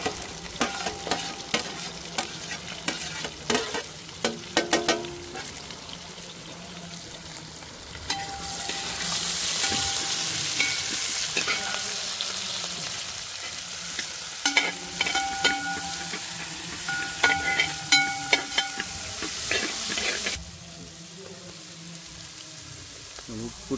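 Sliced onions and green chilies fry for chicken curry with a close, crackling sizzle, punctuated by scraping and clinking stirring strokes; the sizzle grows denser through the middle stretch.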